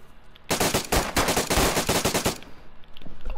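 Rapid bursts of gunfire in the survival game DayZ, loud and close, a fast string of shots lasting about two seconds before cutting off.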